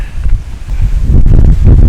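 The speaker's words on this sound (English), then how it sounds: "It is just ridiculously windy." Strong wind at Sleeping Bear Dunes, Michigan, buffets the microphone in heavy, rumbling gusts that rise and fall without pause.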